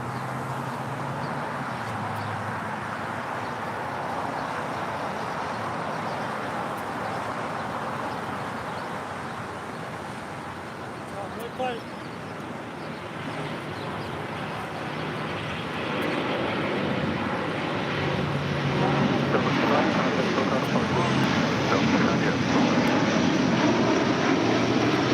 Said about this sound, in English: And Delta Flight 290 now rolling on 25 right.